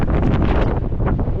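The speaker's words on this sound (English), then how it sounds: "one of the most windiest places I've ever been to. So windy" Strong wind blasts across a hilltop above a beach in Portugal, roaring and buffeting the microphone in a loud, continuous rumble with no voices.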